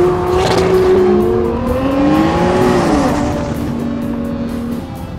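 AMS Performance Alpha 12 Nissan GT-R making about 1400 hp, engine revving hard on track with rising and falling pitch as it shifts and pulls out of a corner, loud and close, tires faintly squealing, no talking.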